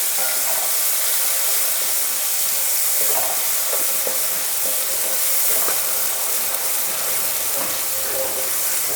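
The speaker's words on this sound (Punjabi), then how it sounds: "ਜਿਹੜਾ ਆਪਾਂ ਪਿਆਜ਼ ਪੀਸ ਕੇ ਰੱਖਿਆ ਉਹ ਸਾਰਾ ਪਾ ਦਿੰਦੇ ਹਾਂ ਤੇ ਉਹਨਾਂ ਆਪਾਂ ਇਹਨੂੰ ਚੰਗੀ ਤਰ੍ਹਾਂ ਭੁੰਨਾਂਗੇ" A ground onion paste fries in hot oil with a loud, continuous sizzling hiss, broken by faint scrapes and stirring clicks from a nearby pan. No one speaks.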